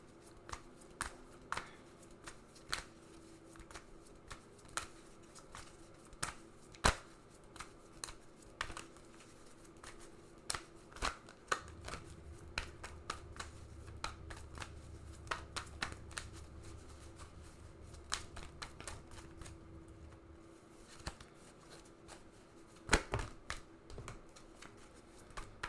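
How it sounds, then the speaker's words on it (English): Romance Angels oracle cards are shuffled close by in a quiet room, with soft papery riffles and a quick run of sharp card snaps and flicks spread across the whole stretch, and no talking. "So let me pull you a Romance Angels card"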